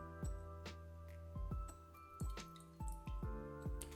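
Tea water poured out and dripping onto a tea tray during gongfu-style tea brewing, a series of distinct drips and small splashes with faint clinks, close and quiet, with no talking.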